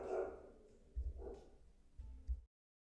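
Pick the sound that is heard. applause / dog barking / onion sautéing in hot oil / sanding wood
dog barking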